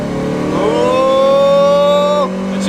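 A mechanically standard Mazda MX-5 1.6 with an aftermarket cone air filter revs up and holds a high, buzzing engine note for about two seconds before dropping away, close and loud.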